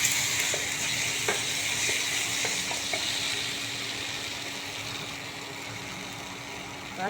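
Tomato paste fries in a pan with ghee and cashews, a steady sizzling hiss with a few soft scrapes and clicks of stirring, close and even throughout.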